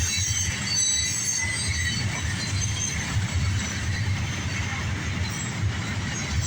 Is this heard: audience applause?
no